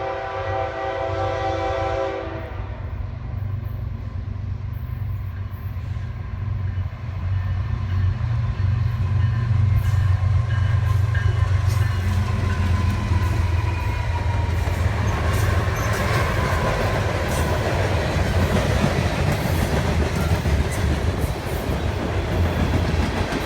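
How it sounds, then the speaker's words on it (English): A Norfolk Southern freight train, NS 13Q led by GE ET44AC demo locomotive GECX 2042 in consist with other units, passes loudly. Horn blasts sound at the start, then a heavy rumble and clickety-clack of cars rolling by continues without voices. "NS Train 13Q is my favorite train to catch"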